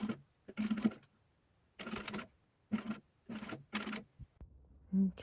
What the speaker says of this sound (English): we will go to the machine, and we are just gonna sew where the fold is.